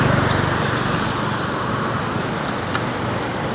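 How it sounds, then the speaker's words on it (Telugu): Road traffic at the Laos–Thailand land border makes a steady broadband roar as vehicles pass by close and continuously, with no clear breaks. "చూడండి బండ్లు చూడండి ఎన్ని వస్తున్నాయి"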